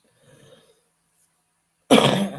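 A single loud, harsh cough bursts out close to the mic after a near-silent stretch with faint breathy murmuring, the cough trailing off rough and raspy.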